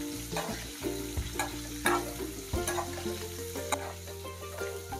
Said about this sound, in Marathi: जरा लालसर झाले की आता ह्यात तुम्ही टाका कांदा।